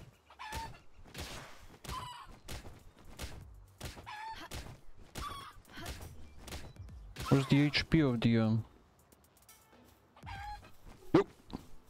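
Chicken clucking in the Palworld video game, several short cackling bursts mixed with game sounds while someone talks over the gameplay.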